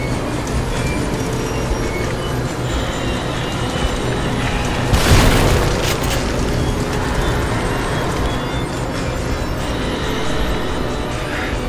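Shotgun blast in The Evil Within horror game, a single loud booming crack midway through a steady rumbling ambient background.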